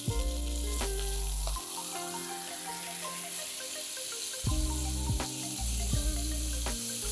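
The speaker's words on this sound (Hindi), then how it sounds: "एक तरफ कुक होने के बाद इसे करेंगे हम टर्न।" Chicken pieces fry in a pan for a creamy malai chicken dish, a continuous soft sizzle running beneath prominent tonal background music.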